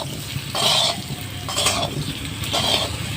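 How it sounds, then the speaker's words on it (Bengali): Potatoes stirring and frying in a pan with salt, three bursts of scraping and sizzle from the spatula at a steady rhythm over a low hiss, close by and fairly loud, no talking. "একটু নাড়াচাড়া করতে হবে একটু ভাজা ভাজা হবে লাল লাল করে"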